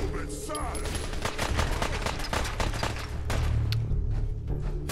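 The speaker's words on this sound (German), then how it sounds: "Schießen die alle auf mich?" Gunfire in Fallout 4 directed at the player, a dense run of rapid shots and bursts lasting throughout, loud and close, with a game voice faintly underneath.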